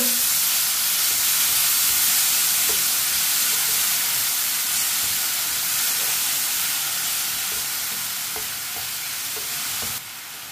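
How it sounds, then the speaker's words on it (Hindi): Tomato paste fries in a pan with bitter gourd, giving a loud, continuous close-up sizzle and hiss that holds steady throughout with faint stirring ticks and no talking. "एक टमाटर का पेस्ट डाल लेंगे। 1 मिनट के लिए पका लेंगे पेस्ट को।"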